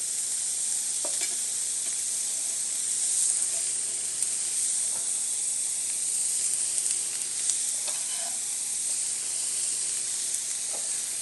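Chopped vegetables and apples sizzle steadily in hot oil in a pan, a continuous bright hiss with occasional light pops and stirring clicks, close and even throughout.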